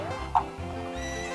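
A horse whinny from Zelda: Ocarina of Time rings out briefly over steady game music and hoof clip-clop during horseback riding.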